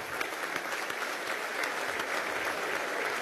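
Deputies applauding in the Venezuelan National Assembly during a formal session, a steady, dense roar of many hands in a large chamber, sustained and even throughout.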